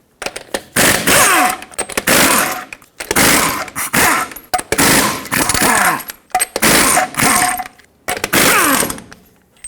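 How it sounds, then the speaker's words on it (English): An impact wrench buzzes off the six lug nuts of a 2003-2009 Toyota 4Runner front wheel with a 21mm socket, in about six loud, close bursts of rattling hammering separated by short pauses. "Remove the 6 lug nuts holding the wheel on."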